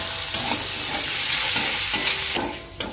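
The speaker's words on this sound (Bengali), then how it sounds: "তো চলো আমরা চিংড়ি মাছটাকে ভেজে নিচ্ছি।" Shrimp coated in turmeric and salt frying in hot oil, a steady close sizzle broken by several sharp stirring scrapes, with no voices.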